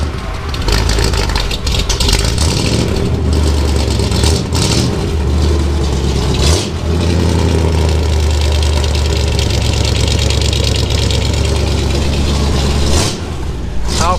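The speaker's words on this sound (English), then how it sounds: "Top Hat John here is going to fire up this 1951 Cadillac Convertible" A 1951 Cadillac Convertible, exhaust exiting through the rear bumper, idles steadily and loud in a garage with a deep, even rumble, a brief dip midway, and no talk over it.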